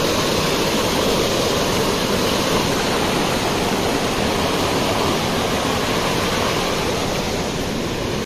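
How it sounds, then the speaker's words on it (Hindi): A constant, loud rush of a mountain waterfall on the Gangotri to Gaumukh trek near the Ganges roars evenly throughout, close by, with no voices. "यहाँ के 100 मीटर दूर गंगा नदी में मिल जाता है ये झरना।"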